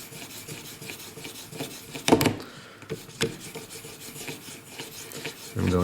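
A knife edge is polished on an Edgepro Apex sharpener with 1000 grit tape: close, repeated dry rasping strokes in an uneven rhythm, including a few louder scrapes and handling knocks.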